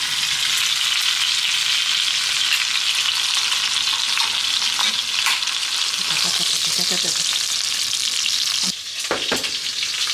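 Chicken thigh steak crisps in its own rendered fat on low heat, making a loud, close, continuous sizzle with stirring and scraping. The sizzle briefly drops near the end before crackling again.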